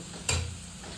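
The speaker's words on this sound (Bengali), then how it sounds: "আমি পুরো নাড়াচাড়া করে নিয়ে আবারও আমি ভালো করে নাড়াচাড়া করে নিচ্ছি" Single quick scrape of a spatula stirring bottle gourd peel frying in a pan, a brief close stroke over a faint steady sizzle.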